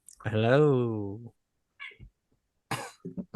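A cat gives one long, drawn-out meow, close and clear, followed by a few short mouth and throat noises and brief speech fragments.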